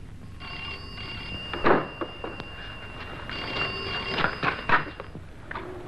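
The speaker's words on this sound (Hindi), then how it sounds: "टेलीफोन।" An old-fashioned telephone bell rings in a 1963 Hindi film scene, a steady trilling ring with louder bursts around the middle and near the end, heard clearly with no talk over it.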